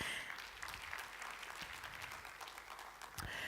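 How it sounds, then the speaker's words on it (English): Sustained applause from a conference audience for a panel at a morning session, dense steady clapping that fills the clip from start to finish with no pause. "A round of applause for the panel, ladies and gentlemen."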